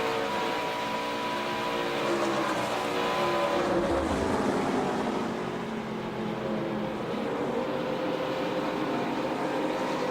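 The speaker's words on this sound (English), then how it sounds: "You can hear him playing with that throttle, just trying to feed it as much as he can." A NASCAR Truck Series engine roars loud and close as the driver works the throttle, the pitch rising and dipping in a steady continuous drone.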